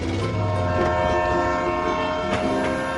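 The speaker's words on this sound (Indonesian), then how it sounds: "Pernahkah kalian melihat kereta api yang melintas?" A train rolls past on straight rails, its steady rumble holding close and loud throughout, with a horn-like tonal blare layered over the wheels' clatter.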